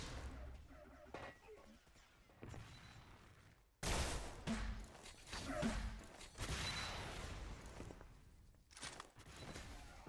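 Rapid weapon fire from the Xonotic arena shooter in a 3v3 capture-the-flag match, loud bursts and sustained volleys with sharp impacts, heaviest from about four seconds on.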